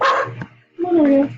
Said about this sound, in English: Sorry for my dog in the background.